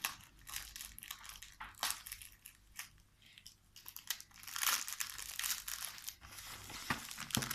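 Plastic packaging wrappers are handled up close, giving continuous crinkling and crunching with sharp crackles that rise and fall in intensity, fairly quiet throughout.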